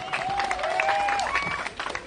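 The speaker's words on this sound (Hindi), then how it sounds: "एक बार फिर से जोरदार तालियां हो जाए महुआ जी के लिए।" Crowd applause at a political rally at Jantar Mantar in Delhi, steady clapping and cheering held for about two seconds with faint whistles and voices mixed in.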